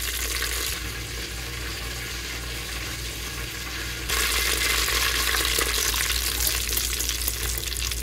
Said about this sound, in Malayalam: സവോള നീളത്തിൽ എരിഞ്ഞത് കുറച്ച് ഇട്ടിട്ട് ഒന്ന് വറുത്ത് പോരാ.